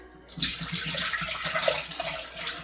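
Canned cut green beans are poured from the can into a small cooking pot, a close, continuous splashing and sloshing of liquid with some soft clunks, lasting the whole clip, with no talking.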